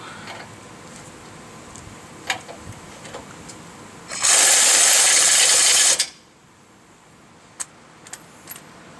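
A loud, steady burst of air ratchet noise lasting about two seconds, tightening a nut during ball joint repair on a Lincoln Town Car, preceded and followed by scattered metallic clicks and clanks in a quiet garage.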